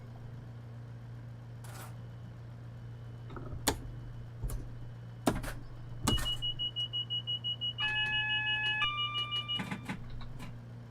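A few scattered clicks, then a rapid electronic beeping chime with stepped tones sounds as train doors open in a train simulator game, over a steady low hum.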